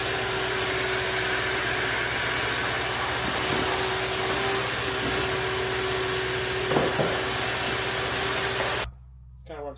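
A vacuum cleaner runs continuously and loudly while picking up grinding debris from the deck of a bale truck, a steady whining roar with a faint tonal hum before it abruptly shuts off near the end.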